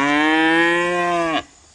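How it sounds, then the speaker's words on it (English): A newly arrived cow gives a single loud, close moo that holds steady for over a second before cutting off abruptly, with no voices over it. "So you'll be seeing more of our new cow Maple around here"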